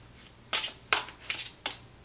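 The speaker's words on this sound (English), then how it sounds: "if I can shuffle without flinging them everywhere" Tarot cards are shuffled in four quick, crisp riffling bursts, each a short rustling flutter, close and alone in an otherwise quiet room.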